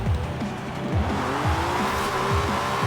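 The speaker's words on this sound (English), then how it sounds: "that really is a nice engine though" An Alfa Romeo 155 Q4 engine in Forza Horizon 4 revs hard and loud through repeated upshifts, each gear change dropping the pitch before it climbs again, with tire noise under the steady roar.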